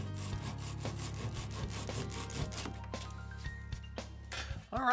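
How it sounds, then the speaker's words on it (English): A hand saw cuts back a protruding wooden dowel flush on a southern pine garden bench, with steady back-and-forth rasping strokes close up and no talking. "Cut off any excess with a saw."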